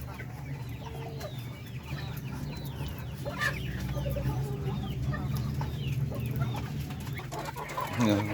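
Native Darag chickens cluck and chirp steadily while feeding on saresa fruit, with soft overlapping calls near and far over a constant low farmyard hum.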